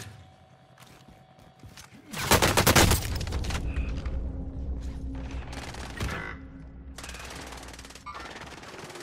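Hostile gunfire in Call of Duty on Rebirth Island, a loud, dense automatic burst early on, then mechanical clatter and rumbling game ambience that continues steadily.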